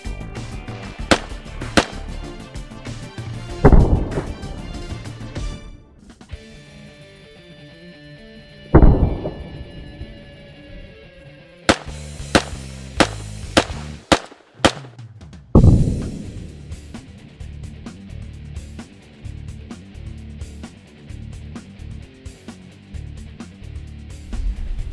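Para TTR .223 short rail rifle with a flash hider muzzle fired outdoors, giving loud, sharp reports spaced a few seconds apart, then a quick cluster of shots, each ringing out with a decaying tail.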